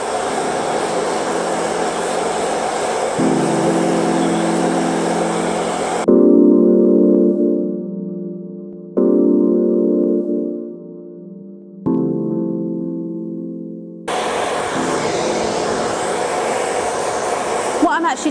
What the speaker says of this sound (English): Always work in small sections when you're blow drying